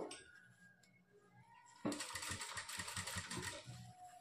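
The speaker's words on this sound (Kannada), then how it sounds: "ಯಾವುದೇ ಮೂಲೆಯಲ್ಲಾದರೂ ನೀಟಾಗಿ ನೀಡಲನ್ನು ಇಳಿಸ್ಕೊಂಡು ಪೈಪಿಂಗನ್ನು ನೀವು ಸ್ಟಿಚ್ ಮಾಡ್ಕೊಳ್ಳಿ" Sewing machine stitching piping onto a cutwork boat-neck blouse, quiet at first and then a sudden run of fast, even mechanical stitching close by, with no talk over it.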